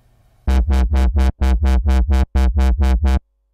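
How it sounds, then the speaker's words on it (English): Sylenth1 synth bassline with a sine-wave LFO sweeping the filter cutoff, heard as a clean, loud sequence of about eleven evenly timed pulsing notes in quick rhythmic groups, alone without other sounds. "Now if we change the waveform shape on the LFO module to a sine wave,"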